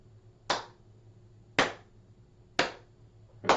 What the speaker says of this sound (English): Let's add a clap in between. So it's going to be clap, tap, clap,